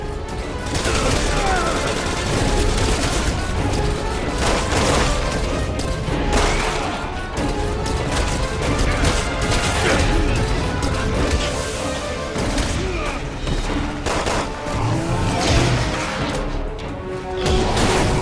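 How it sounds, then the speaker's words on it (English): Sniper rifle fire and dense combat noise from Resident Evil 6 on PS3 during Chris's campaign, with continuous loud gunfire, crashes and booms layered together with no break. "you can definitely duck and avoid their shots, which is fairly easy considering that long red line follows their sniper rifles wherever they aim it"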